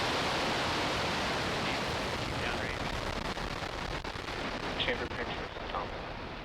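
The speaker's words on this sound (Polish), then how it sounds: "Ignition. And liftoff." A SpaceX Starlink rocket lifts off with a broad, steady roar that fills the whole clip, dense and rumbling without a break.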